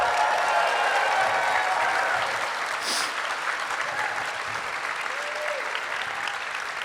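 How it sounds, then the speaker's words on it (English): A live audience at an RTX 2022 comedy panel applauds and cheers steadily throughout, a dense, loud roar of clapping with scattered whoops and voices mixed in. "They're cheering for Michael tearing into you."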